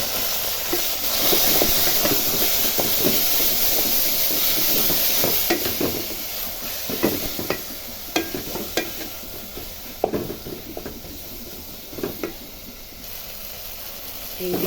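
Home-picked leafy greens cook in a pan with a steady close sizzle, broken by frequent scraping and clinking stirs. Quiet background noise runs underneath.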